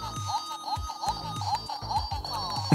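Rapid electronic beeps and chirpy jingles from a cheap mini whack-a-mole desk console as its buttons are pressed quickly, a busy overlapping stream of short tones with thumps of presses, fairly close and alone.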